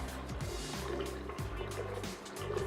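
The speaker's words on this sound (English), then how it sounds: "I add about 2 cups of water." About two cups of water pour into a blender for a green smoothie, a soft, continuous gurgling fill with wobbling tones as the level rises, faint and steady without talk.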